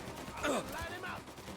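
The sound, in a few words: gunfire in the video game Mafia Definitive Edition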